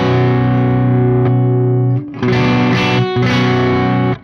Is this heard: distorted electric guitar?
yes